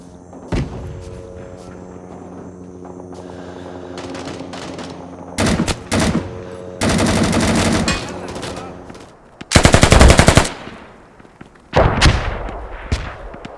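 Gunfire and explosions from the Vietnam War shooter Rising Storm 2: Vietnam, with scattered single shots giving way to loud sustained automatic bursts and a heavy blast-like barrage, punctuated by pauses and booming thuds.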